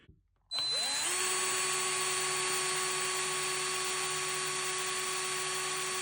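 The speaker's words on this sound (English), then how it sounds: "I'm just going to take a drill here and put a small hole just here" A power drill boring a small hole into a diorama model, starting abruptly after a brief quiet moment and then whining at a steady high pitch without pause, loud and close.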